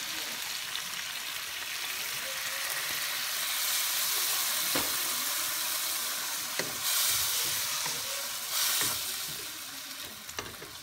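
Vinegar hits a hot pan of fish escabeche with a loud, steady sizzle and crackle. The hiss stays constant with a few sharp pops and clinks, and no voices are heard.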